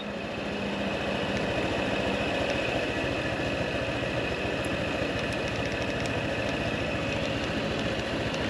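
A Honda PCX 2023 scooter engine idles steadily and evenly throughout, a constant close mechanical drone with a fine rapid pulse and no break or talking.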